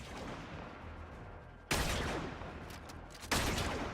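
Vectis Prime sniper rifle firing in Warframe: two sharp, loud shots about a second and a half apart, each followed by a decaying rumble over a steady background of game ambience.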